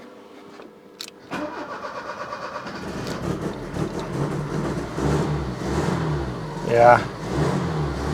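Opel Ascona car engine cranking and catching after cambelt work, then running roughly and unevenly as it struggles to idle, with a brief rev near the end and a person speaking briefly.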